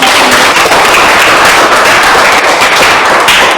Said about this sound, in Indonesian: Mari kita tepuk tangan untuk